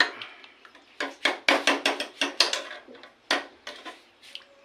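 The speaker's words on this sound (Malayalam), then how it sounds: "ഇങ്ങനെ ഒന്ന് മൂടി ഇട്ട് കൊടുക്കാം." A lid placed on a cooking pot in a home kitchen, heard as a close, quiet run of sharp metallic clinks and knocks with short pauses between them.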